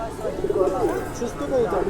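Soft, warbling pigeon coos run beneath a talking voice, several calls layered together at close range, at a pigeon market in Bangladesh.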